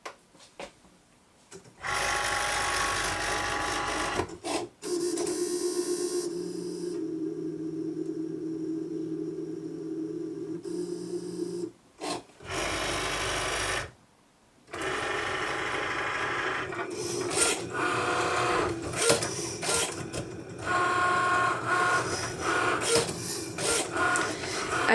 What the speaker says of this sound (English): So now I'm going to press the blinking Cricut button.